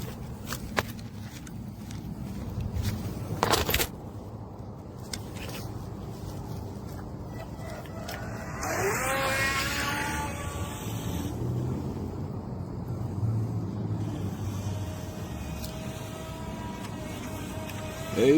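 A small 12-inch BEZGAR self-righting remote-control boat runs across water, its high, rising electric motor whine emerging midway and continuing with splashing under background noise and some talk.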